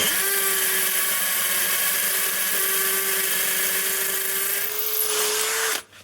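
A Bosch GSB 18V-21 cordless hammer drill runs steadily as it bores into a hole, a loud, continuous whine holding for about six seconds before it stops abruptly.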